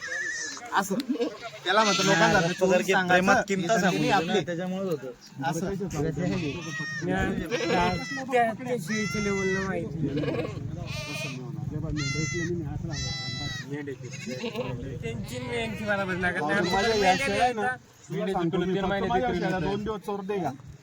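Kathiawadi goats, a tall, top-quality truckload, bleat repeatedly and close by, their wavering cries overlapping in a busy chorus with brief pauses.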